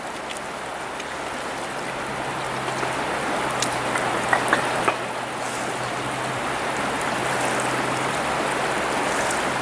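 Fast-flowing river water during a fly-fishing trip for big trout, a constant broadband rushing wash with a few faint splashes, steady and close with no talk.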